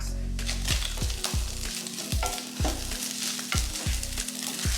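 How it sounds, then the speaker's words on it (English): Carnitas meat and tortillas sizzle together in a hot pan, a steady close frying hiss broken by repeated low thumps and scrapes as the food is moved, with no talking. "we're gonna heat our meat and our tortillas"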